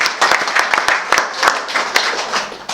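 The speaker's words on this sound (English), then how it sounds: "Big round of applause for Blaise van Hecke." An audience at an open mic night and Christmas party applauds, a close, loud round of clapping with distinct individual claps and a voice heard faintly underneath.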